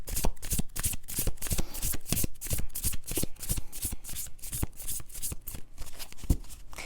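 Tarot cards being shuffled close up, a rapid run of crisp riffling flutters and slaps repeating steadily for several seconds with no talk.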